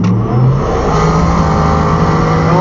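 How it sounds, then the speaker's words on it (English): A Tesla Plaid launching in a quarter-mile drag race, a loud, steady roar of motor and tire noise filling the whole moment, close and unbroken. "it's a drag race right here"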